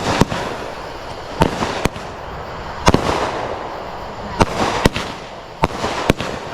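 Consumer fireworks shots during a July 4th backyard display in Texas, a string of about nine sharp, loud reports at irregular intervals over a steady crackling and hissing background, heard outdoors at close range.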